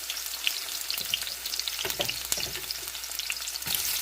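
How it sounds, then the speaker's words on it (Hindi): Sliced onions fry in hot oil for a biryani garnish, giving a steady high crackling sizzle throughout with a few louder pops and stirring scrapes, close and continuous with no voices. "इसके अंदर हमने जो अनियन कट की थी वो उसको डाल देंगे और उसको फ्राई करेंगे गोल्डन ब्राउन होने तक"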